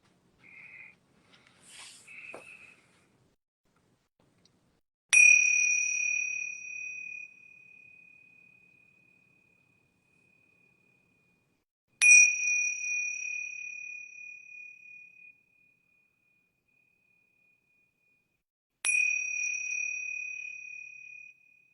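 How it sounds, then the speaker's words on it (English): Yoga bells struck three times at the close of a relaxation session, each a bright ringing tone that decays slowly into silence, spaced about seven seconds apart after a few faint soft touches, heard alone. "I'm going to ring these yoga bells 3 times."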